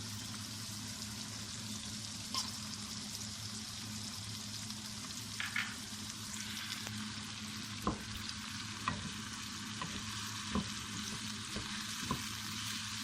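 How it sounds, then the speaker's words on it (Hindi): Chicken macaroni fries in a pan with soy sauce, giving a steady, fairly quiet sizzle with occasional scrapes and taps of stirring. "5 मिनट और पकाएंगे, इसी तरह फ्राई कर लेंगे।"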